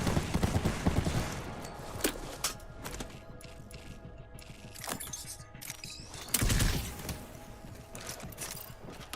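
Cluster explosives firing in a video game, heard as a busy, mechanical stream of rapid pops and clattering impacts. There is a louder burst early on and another near the end.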